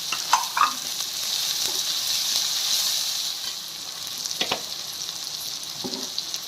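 Onions, green chillies and garlic sizzle steadily in hot oil for dondakaya fry, with a continuous bright frying hiss broken by a few scraping stirs, close and alone without any voices.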